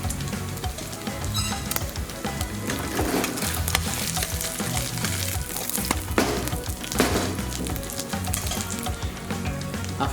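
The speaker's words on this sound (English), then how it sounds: "flip over once again and cook the pancake for 3 minutes" An okonomiyaki pancake frying in a hot pan, a steady, dense sizzle and crackle with scattered pops running unbroken throughout, close and fairly loud with no talk.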